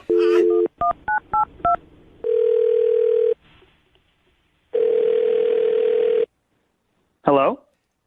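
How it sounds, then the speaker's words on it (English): A telephone dial tone alternates with a rapid run of touch-tone number beeps, loud and close, with steady tone stretches separated by short silences and a brief voice near the end. "I'm going to dial his phone number right now"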